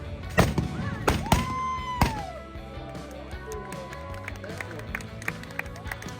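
Cannons fire in a quick volley, four loud sharp booms in the first two seconds, then a crowd murmurs and voices carry over the ringing aftermath.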